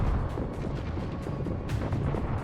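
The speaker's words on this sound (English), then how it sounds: "Stop shooting me with rockets" Rocket fire and explosions in the game Destiny 2, a dense, continuous rumbling barrage of booms and crackling blasts, loud and close throughout with no pause, no talk.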